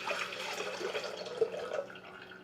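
A yogurt mixture is poured into the pan of an Elite Gourmet bread machine with the paddle removed, giving a soft, faint liquid trickle and splash that tapers off gradually.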